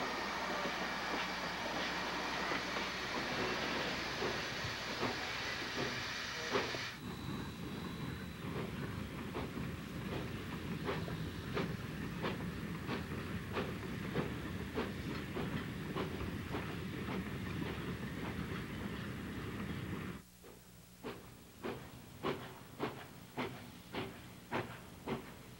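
An ET&WNC (Tweetsie) steam train rumbles and hisses steadily at a distance. Later the hiss drops away and a regular clacking beat takes over, repeating evenly until the end.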